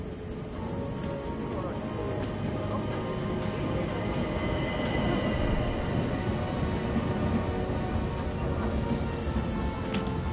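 A train at a station, a dense continuous rumble with rolling wheel noise and faint high squeals, steady and fairly loud throughout.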